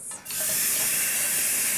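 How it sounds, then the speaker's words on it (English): Caster sugar caramelizing in a hot pan gives a steady, loud broadband sizzle that starts after a brief quieter moment and holds on without a break, with no voices over it. "There's nothing better than when the sizzle starts coming through out of a pan."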